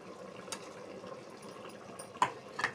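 Chicken boils in a pot for chicken curry, giving a quiet, continuous bubbling simmer with a few soft clinks and knocks near the end.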